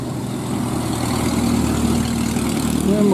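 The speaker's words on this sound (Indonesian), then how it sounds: "Ini merupakan angkutan umum ya." A public transport minibus engine drones with a steady, loud, low rumble on a winding mountain road in West Java, with no talk.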